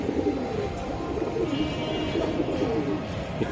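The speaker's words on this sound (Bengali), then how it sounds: "কবুতরগুলা ইনশাআল্লাহ আমি দেখানোর চেষ্টা করলাম ভাই" Giribaz pigeons coo at a farm, a steady, low murmuring of several birds close by, with soft overlapping calls running through the whole stretch and no talk.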